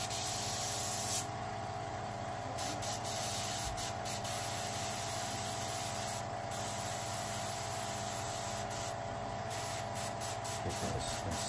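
Airbrush spraying light coats of paint while customizing a sneaker, a steady hissing spray running almost without pause, with brief breaks and a low background hum.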